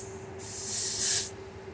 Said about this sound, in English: I loosened this fitting and that allowed gas to flow